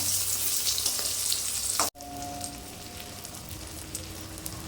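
A flipped brinjal and egg omelette fries in a pan with a loud, close sizzle at first, which then drops to a softer, steady crackle.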